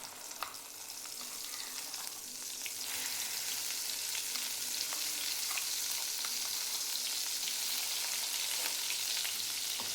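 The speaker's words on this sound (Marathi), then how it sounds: "तेलामध्ये वाटण भाजायचं आहे" Ground spice paste frying in hot oil with mustard seeds for a Marathwada-style curry, a steady bright sizzle that swells after a couple of seconds, with faint stirring taps and no voices.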